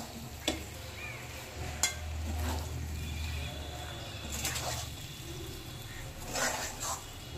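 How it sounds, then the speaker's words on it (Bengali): A spoon stirs mixed vegetables with pumpkin shoots in a pan, giving a soft, steady frying hiss with a few sharp scrapes and taps against the pan. "একটু নেড়ে দেবো।"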